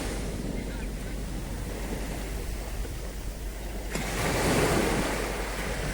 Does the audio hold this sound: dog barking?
no